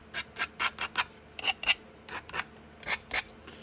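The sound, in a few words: sanding by hand with sandpaper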